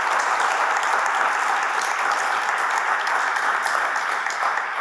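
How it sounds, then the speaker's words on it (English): An audience at the African Meeting House gives an author a round of applause at a book-tour event, with steady, full clapping that continues throughout. "let's give him another round of applause"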